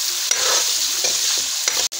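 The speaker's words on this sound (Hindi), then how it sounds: "इसको हम 1 मिनट तक के लिए अच्छे से भूनेंगे।" Mutton with garlic fries in a pot, a loud steady sizzle close by with scraping stir strokes breaking through, and no voices.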